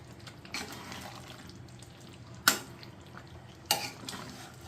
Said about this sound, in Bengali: দিয়ে আমি এবার সব কটাকে খুব ভালোভাবে মাটনের সঙ্গে মিশিয়ে নেব।